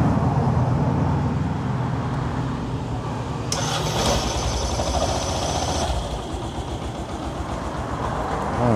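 A Yamaha YTX 125 motorcycle idles after a cold start with the choke on, a loud steady close-up engine drone with a rougher, higher-pitched burst midway.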